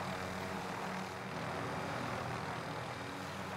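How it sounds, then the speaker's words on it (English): A continuous, fairly faint aircraft-like rotor and engine drone from a helicopter in Call of Duty: Modern Warfare, steady and unbroken with no talking. "I'll pop the chopper here."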